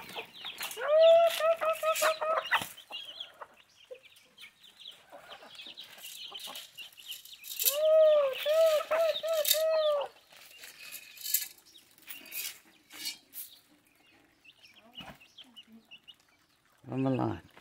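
Chickens cluck in bursts of repeated calls, loudest around the start and again midway, with scuffling and brief noises between, heard close by on a farm while feed corn is being ground.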